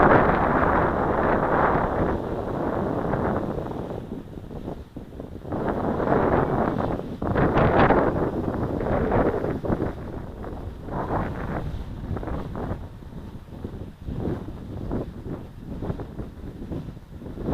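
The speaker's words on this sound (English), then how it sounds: "The wind is from my back, or at my back." Heavy wind buffets an outdoor microphone in continuous loud gusts, rising and falling throughout, while a small AXN Floater Jet foam model plane is flown on a windy day; no voices.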